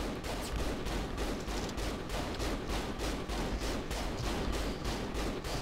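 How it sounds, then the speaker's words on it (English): Sustained rapid volley of loud gunfire from a shotgun blasting at a tank in Saints Row The Third, dense overlapping shots and explosions repeating steadily throughout with no talking. "I'm gonna take out this tank with a shotgun, because I can."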